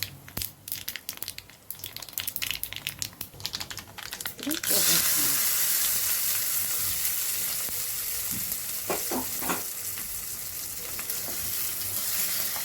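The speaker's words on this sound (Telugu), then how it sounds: "ఇప్పుడైతే పోపు వేగిందండి ఇప్పుడు పచ్చళ్ళు వేసుకున్నాం" Sizzling tempering in hot oil as red chilli pickle is added: clattering, crackly bursts give way to a loud, steady hiss, with a few utensil knocks near the end.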